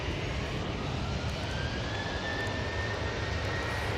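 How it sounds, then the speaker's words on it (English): A Ryanair Boeing 737 jet on its takeoff roll at Manchester Airport makes a steady, broad engine roar that holds at an even loudness throughout, heard from some distance. "Ryanair 73 on the roll"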